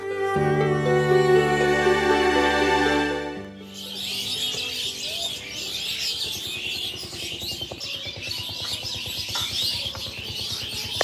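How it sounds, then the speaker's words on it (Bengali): Many birds chirp in a tree beside a room at an eco resort in the Sundarbans, a busy, overlapping twitter that starts after a few seconds of steady tonal sound and continues without talk. "আমাদের রুমের পাশের গাছে কি সুন্দর পাখি কিচিরমিচির সাউন্ড"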